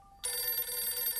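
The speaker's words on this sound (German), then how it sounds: "das ist doch ein Telefon" A telephone starts ringing after a brief quiet moment, a bright electronic trill that carries on steadily and fairly loud, with no one talking over it.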